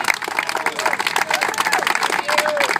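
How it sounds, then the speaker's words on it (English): Crowd applause at a community meeting in Brentwood, brief irregular clapping with a few whoops and voices mixed in, fairly close and moderately loud. "You deserve a round of applause."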